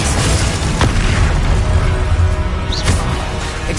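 The Confringo explosion spell bursts in Hogwarts Legacy with loud, dense booms, several sharp blasts and a rumbling spell impact layered in a constant, chaotic battle roar.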